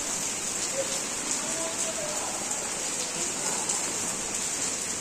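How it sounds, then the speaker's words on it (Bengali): Heavy rain pouring down outside on a rainy day, a steady dense hiss of drops on surfaces that stays constant and fairly loud throughout, with no talking. "বাইরে অঝোর ধারায় বৃষ্টি নামছে"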